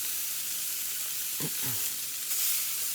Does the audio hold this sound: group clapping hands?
no